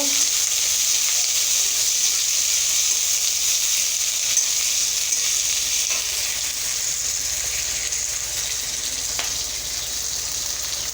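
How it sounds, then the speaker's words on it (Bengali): Onion and garlic frying in a pan give a steady, close, bright sizzle that holds evenly from start to finish, with no talking over it. "আগে দেবো পেঁয়াজ রসুন, পেঁয়াজ রসুনটাকে একটু ভেজে নেব।"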